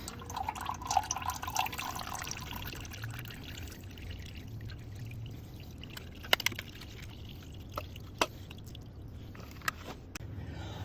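Leftover engine oil drains from the plug hole of a 2007 Ford Focus, starting as a faint trickling pour and tapering into scattered, separate drips in a quiet space.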